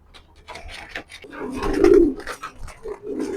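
Racer pigeons coo close by in low, throaty, rolling calls that swell and repeat, mixed with light rustling and shuffling.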